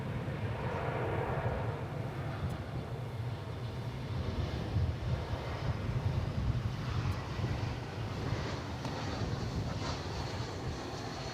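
An airliner departs DFW Airport with a steady distant jet roar rising and swelling, heard alone outdoors.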